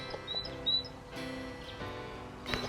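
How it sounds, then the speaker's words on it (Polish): Birds sing outdoors on a sunny California morning, a few short high chirps and whistles heard softly over a steady background hum. "Ptaszki śpiewają"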